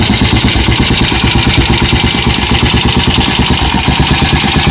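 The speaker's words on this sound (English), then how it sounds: "Normally, I like my Triumph to idle low, and it won't continue to idle on its own because it fluctuates." A Triumph TR5 engine idles low and rough, with a loud, continuous, rapidly pulsing low throb that stays close and steady throughout.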